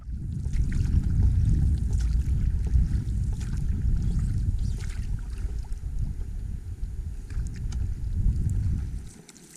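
An F-rib folding inflatable boat moves across Loch Lubnaig on a December day. Low, continuous rumble of water and wind against the hull, close to the microphone, with a few small splashes and knocks. The sound fades sharply at the very end.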